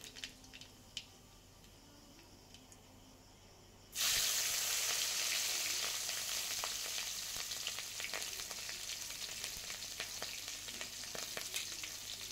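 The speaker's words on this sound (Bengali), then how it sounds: "এবার ওই মাছ ভাজা তেলেই ফোড়ন দিয়ে দেবো কালো জিরে, দিয়ে দেবো চিরা কাঁচা লঙ্কা" Black cumin seeds and slit green chilies hit hot mustard-style fish-frying oil left from frying fish, bursting into a loud, steady sizzle that holds alone with faint crackles after a quiet start.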